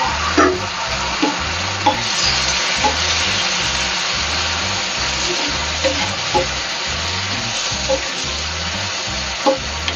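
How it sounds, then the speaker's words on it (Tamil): Chopped tomatoes sizzle in hot oil for chicken varuval, a loud, continuous frying hiss broken by regular knocking and scraping strokes as the pan is stirred. "போட்டு தக்காளி நல்லா வதங்கணும்."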